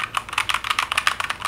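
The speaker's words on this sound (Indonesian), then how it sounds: "Gua tuh kemarin beli yang brown switch, jadi suara kayak gini." Rapid, steady typing on a Keychron K2 mechanical keyboard with brown switches, close and clear, with a quick run of crisp keystrokes and no talking.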